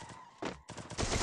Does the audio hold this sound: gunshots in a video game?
yes